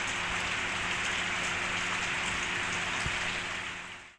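Heavy rain pours steadily in Banjarmasin during flooding of main and residential streets, a dense, continuous hiss at close range with no talk, easing off only at the very end.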